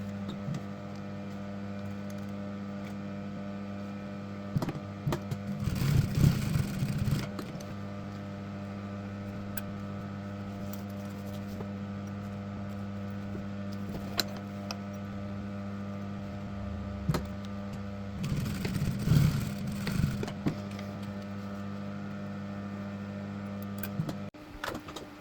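A sewing machine stitching bag straps 5 mm from the edge, with a steady motor hum broken by two short, louder bursts of stitching.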